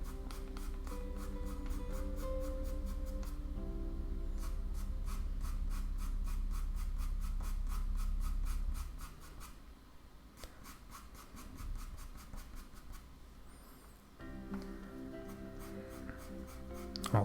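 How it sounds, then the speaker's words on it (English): Soft pastel pencil rasps steadily across paper in quick repeated scratchy strokes while shading the inside of a fox's ear, close and quiet with no talking. "So just adding a few pencil strokes and inside of the ear here for that"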